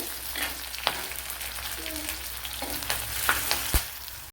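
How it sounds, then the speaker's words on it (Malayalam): Ginger and green chilies, added with garlic, fry in a pan with oil, giving a continuous loud sizzle and occasional clinks of a stirring utensil, with no talk. "ചെറിയ പീസ് ഇഞ്ചി, 2 പച്ചമുളക് ഇത്രയും ചേർത്ത് കൊടുത്തൊന്ന് മൂപ്പിച്ചെടുക്കണം"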